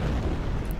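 Edict ability explosions in a Dota 2 match, a dense rumbling burst of booms packed into under a second, loud and continuous with no gaps.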